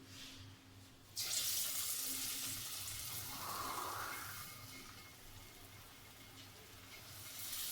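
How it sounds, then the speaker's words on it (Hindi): Chicken pakoras go into hot frying oil, setting off a sudden bright sizzle that holds as a steady, fairly quiet crackle with no talking. "ऑयल हमारा अच्छी तरह गर्म हो गया। अब मैं इसमें पकौड़े डालती हूँ।"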